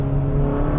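The 2022 Kia K5 GT sedan's engine revs up during a downshift through its 8-speed dual-clutch gearbox, a loud, close, steady growl lasting under a second.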